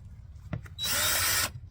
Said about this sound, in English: I'm just going to drill a hole through both of the bins for less work, right?